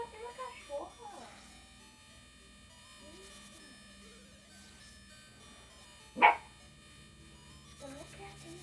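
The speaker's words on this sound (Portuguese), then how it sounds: "Para de bater na cachorra." Dog barking in the Game Boy Color game The Legend of Zelda: Link's Awakening DX, a single sharp chiptune yelp cutting through background game music, with a few softer blips before and after.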